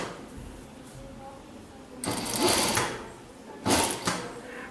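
A sewing machine runs in two short bursts, stitching a strip of fabric onto a baby jumpsuit, with quieter room tone and a faint voice in the pauses between runs.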